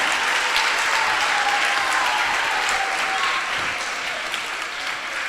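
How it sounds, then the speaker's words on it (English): Dense, steady audience applause fills the room at a Sunday temple feast, loud and sustained throughout before easing slightly toward the end, with no speech over it. "Give a big round of the applause."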